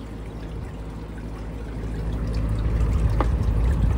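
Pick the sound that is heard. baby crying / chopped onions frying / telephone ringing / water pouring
water pouring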